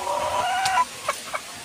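Native chickens in a backyard coop clucking close by, a drawn-out warbling cluck followed by two short clucks, loud and clear with no talk.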